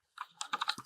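Quick burst of typing on a computer keyboard while editing a Microsoft Word document, about half a dozen close, crisp keystrokes in under a second.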